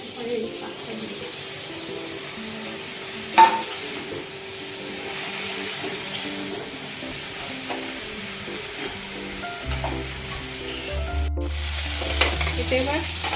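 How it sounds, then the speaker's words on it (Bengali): Potato, pumpkin and greens fry in a pan with a steady sizzle and occasional stirring scrapes, a sharp clatter near the start, and a deeper rumble joining toward the end. "এটা ভাজা ভাজা হয়ে এসছে, আলু আর ভাজা ভাজা হয়ে এসছে কুমড়োটা"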